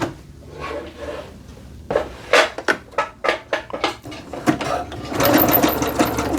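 Sewing machine running in short rhythmic bursts as it stitches a box shape to secure elastic on a pair of joggers, loud and close, with brief pauses between runs and a faster, denser stretch near the end.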